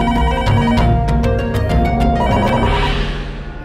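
A telephone rings loudly with a steady electronic ringtone, repeated tonal pulses filling the whole short stretch, with no one speaking.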